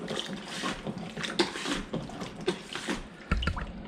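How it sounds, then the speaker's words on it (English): Flush of a Thetford 365 cassette toilet, water rushing and swirling around the bowl in uneven surges for a few seconds, close and fairly quiet. "every time you flush, the water shoots around the bowl"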